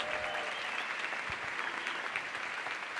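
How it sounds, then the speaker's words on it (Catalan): A large audience claps loudly and continuously at the La Patum festival celebration in Berga. The sound forms a dense, even wall of applause from start to finish. "si us plau, un fort aplaudiment."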